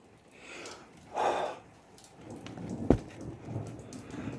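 Soft rain patters steadily while a sharp thunder crack breaks through near the middle, followed by a low rumble.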